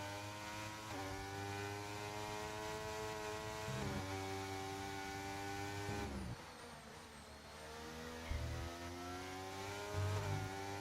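Race car engines in a racing video game at Bahrain, a high harmonic whine rising through gears with shift drops and passing cars, loud and continuous with no talk.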